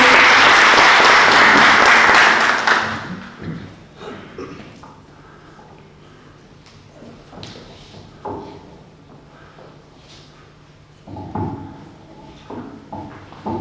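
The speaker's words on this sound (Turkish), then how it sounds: "alkışlarla davet ediyorum" Applause welcoming a high-school student to the stage at an award ceremony, loud clapping for about two and a half seconds that stops abruptly, followed by quiet room noise, footsteps and small knocks.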